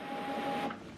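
An HP Envy Inspire 7224e printer runs its print head alignment, giving a steady mechanical whir with a constant tonal hum that eases off near the end; no talking.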